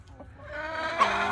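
A rooster clucks close by while being handled during a lice and mite health check, a short burst of throaty clucking that rises and grows louder toward the end.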